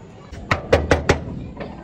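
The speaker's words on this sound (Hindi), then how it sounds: "दरवाज़ा खोलो अली खोल दरवाजा खोल दरवाजा खोल दरवाजा" Knocking on a door: four quick, sharp raps close by in under a second, followed by a fainter fifth knock, with quiet room noise around them.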